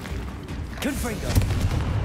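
Blasting spell fire and explosive booms in Hogwarts Legacy combat, several quick bursts and crackling impacts close up, with a voice talking over the gunfire-like blasts.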